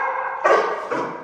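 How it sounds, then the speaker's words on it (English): A trained dog barks on command, giving two sharp close barks about half a second apart, loud and alone with no talking. "we're gonna have him bark at me"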